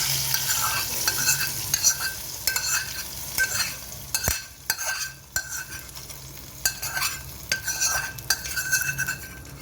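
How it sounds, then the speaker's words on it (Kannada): Raisins and cashews frying in ghee, with a steady soft sizzle under repeated spoon scrapes and light clinks against the pan, close by and fairly quiet. "ದ್ರಾಕ್ಷಿ ಗೋಡಂಬಿ ತುಪ್ಪದಾಗ ಹುರಿದು ಬಿಟ್ಟು"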